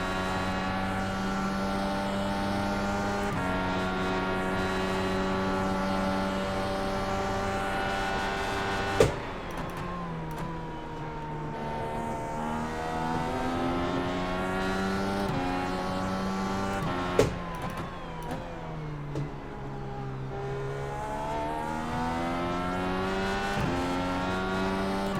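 A DW-12 IndyCar engine in the iRacing sim at Road America revs continuously, its pitch climbing and falling through gear shifts, with a couple of sharp clicks along the way.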